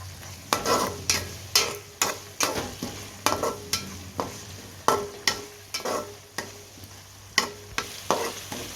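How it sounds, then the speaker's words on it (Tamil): Ginger garlic paste sautés in a pan for a fish curry: a continuous sizzle under regular, sharp spoon-on-pan scrapes, roughly one or two a second, close and clear with no speech. "பச்சை வாசனை போகிற அளவுக்கு நல்லா வதக்கியாச்சு"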